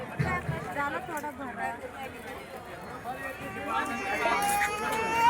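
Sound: crowd of customers at Diwali weekly market

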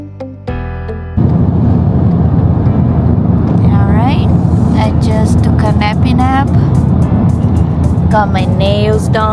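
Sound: car driving on road trip

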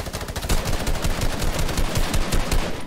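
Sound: gunfire in Fortnite video game

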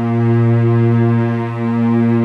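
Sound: constant cello sample played in Logic Pro

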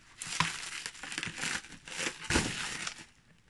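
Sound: unwrapping a package wrapped in bubble wrap

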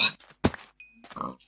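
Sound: pig grunting in the video game Minecraft

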